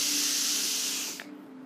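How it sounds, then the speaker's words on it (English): A deep breath drawn in through the nose and let out through the mouth during a beach yoga session, a steady broad hiss lasting over a second before trailing off, close and alone with no talk. "in through the nose, out through the mouth"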